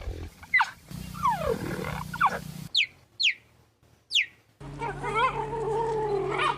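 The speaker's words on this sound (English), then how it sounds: "These are happy cheetahs." Recorded cheetah calls play back: a series of sharp, high, bird-like chirps and yelps in bursts with short gaps, then a longer warbling call over a steady low hum near the end.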